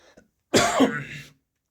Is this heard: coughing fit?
yes